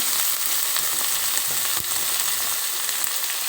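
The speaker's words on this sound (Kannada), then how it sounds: "ಇದಕ್ಕೆ ಮತ್ತೆ ನಾನು ಹೆಚ್ಚಿಟ್ಟುಕೊಂಡಿರ್ತಕ್ಕಂಥ ಈರುಳ್ಳಿಯನ್ನು ಹಾಕಿದೆ." Chopped onions fry in hot oil for a potato palya, alongside green chilies, making a continuous dense sizzle that stays loud and even, heard alone.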